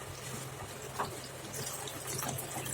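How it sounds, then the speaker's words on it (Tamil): Water is poured into a pot of sweet and spicy kara kuzhambu curry in a home kitchen, a faint, steady trickle with a few small splashes and no voices. "வீட்டுக்கு தேவையான அளவு தண்ணி சேர்த்துக்குவோம்"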